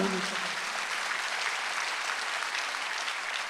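Church congregation applauding during a Sunday worship service, a steady wash of clapping that fills the room evenly from start to finish with no voices over it.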